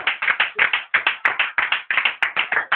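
Church congregation clapping together in a fast, steady rhythm, loud and close, a crisp burst of hand claps with no voices over it.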